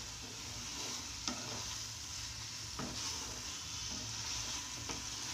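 Veg manchuria fries and sizzles in a pan over high heat while being stirred, a steady hiss broken by a few sharp scrapes and clinks of the spoon, with no talk.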